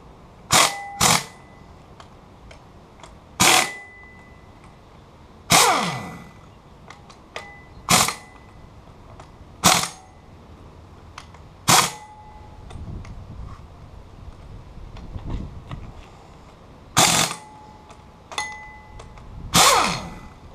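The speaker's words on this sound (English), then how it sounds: "I'm just taking the air wrench and I'm going to tighten them down" Air wrench tightening bolts while parts are moved onto a replacement engine for a 32-foot Carver boat: about a dozen sharp, loud bursts of impact rattling, spaced a second or more apart, with quiet workshop background between them and no talk.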